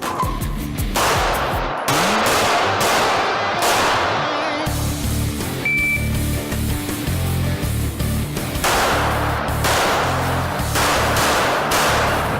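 Pistol fire from a SIG handgun at an IDPA shooting match, a rapid string of loud cracking shots in bursts, with a pause midway before another volley, heard outdoors without talk.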